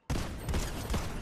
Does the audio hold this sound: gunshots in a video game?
yes